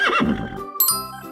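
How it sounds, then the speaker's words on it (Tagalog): A horse neighs loudly and close by, a shrill whinny that drops in pitch and then rises into a second shorter, fluttering call. "Horse."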